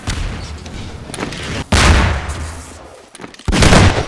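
Rocket launcher blasts in a Half-Life 2 Deathmatch firefight: loud, booming explosions with broadband roars, two big hits separated by quieter gunfire crackle, close and dominant with no talking over them.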